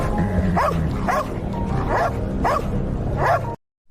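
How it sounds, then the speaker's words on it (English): Dogs bark and yip repeatedly in a rough rhythm, a few sharp barks roughly half a second apart, fairly loud, before cutting off to silence. "he looks like he's about to be attacked by lots of stray dogs"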